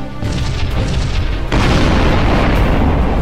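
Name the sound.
explosion of an enemy ship in the video game Sunrider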